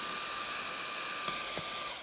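A vacuum cleaner cleans dirt from the grooves of a window track, giving a steady, close, high-pitched motor whine with airy suction noise that keeps going without a break.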